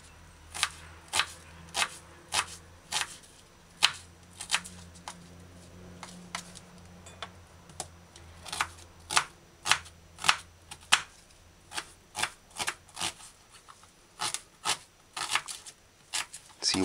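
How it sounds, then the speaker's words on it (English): A knife dices an onion on a cutting board, giving a steady series of sharp, close chopping taps spread evenly through the stretch with no talking. "And then dice onion fine."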